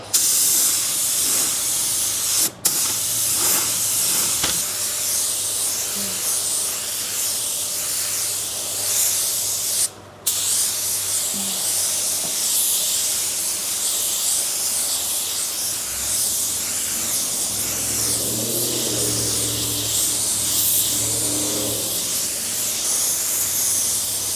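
Spray gun laying color onto a car's quarter panel, a continuous loud hiss of atomized paint running nearly unbroken, cut by two brief pauses as the trigger is released, with faint low thumps toward the end.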